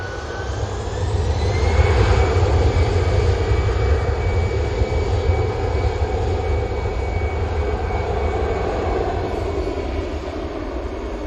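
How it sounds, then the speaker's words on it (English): EasyJet airliner on its takeoff roll, jet engines swelling to a loud roar that peaks early and then holds a steady, slowly easing rumble with a faint rising whine. "Finally, this EasyJet's on the roll."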